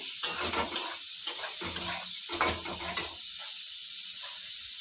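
Semolina upma fries in a pan over a high gas flame, a steady close hiss and sizzle with rhythmic stirring scrapes pulsing through it.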